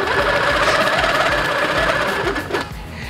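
A longarm quilting machine stitches along a handheld ruler, a loud rapid mechanical chatter with steady rhythmic needle pulses that slows and fades in the final half second.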